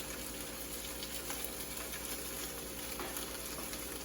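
Okra in batter fries in a skillet as a steady, soft sizzle that keeps going without a break, with no talking.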